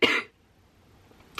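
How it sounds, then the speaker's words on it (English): A single short, sharp cough up close, followed by near silence and a faint second throat sound near the end. "oh my gosh, I'm gonna cough again."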